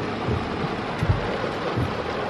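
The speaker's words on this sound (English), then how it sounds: "It's raining." Steady rain falls outdoors, a dense broadband hiss mixed with wind buffeting the microphone and a few low thuds, continuous and fairly loud with no talking.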